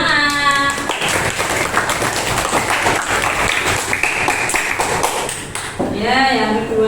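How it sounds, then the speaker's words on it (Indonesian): A group of children in an Islamic school classroom clap their hands together in a dense burst of applause lasting several seconds, with voices speaking just before and after. "kasih ya, tepuk tangan."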